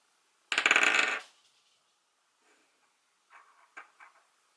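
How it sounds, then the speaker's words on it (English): Dice are rolled and rattle on a surface in one loud burst, followed by a few faint small clicks as they settle. "I just rolled the dice again and got a 5"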